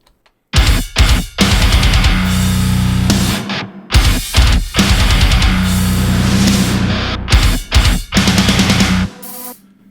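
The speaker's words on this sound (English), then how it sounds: "I either cut off the top of the reverse snare" A loud music passage with punchy drums and swelling hits, including reversed snare swells rising into the beats, repeated several times before a short fade.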